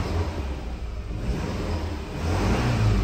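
The 2.5L engine of a 2010 Subaru Impreza revs up nearby, a short, steady mid-pitched rise in engine noise with no talking.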